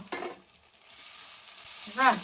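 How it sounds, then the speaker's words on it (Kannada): Sprouted horse gram is sautéed in a pan, with quiet sizzling and stirring scrapes in short bursts and a brief vocal sound near the end. "ಚೆನ್ನಾಗಿ ಇದನ್ನ ಬಾಡಿಸ್ಕೊಳ್ಳಿ"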